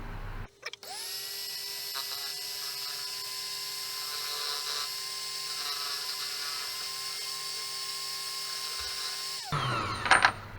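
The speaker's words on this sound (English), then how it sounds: "Basically it's a boring bar, but let's try it out without the boring thing." A boring bar tool cutting on a shop machine, a steady sustained whine lasting several seconds that starts abruptly and cuts off, with brief clanks at either end.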